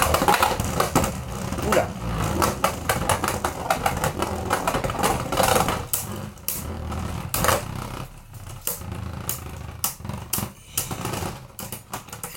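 Beyblade spinning tops, including a Breaker Xcalius X4 in Slingshot mode, battle in a stadium, giving a dense run of rapid metallic clicks and rattling collisions with sharp knocks, close and loud, while a voice briefly exclaims.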